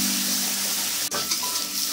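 Mustard and poppy seed paste with green chilli fries over high flame, making a constant close sizzle, with one sharp tap of a spoon partway through.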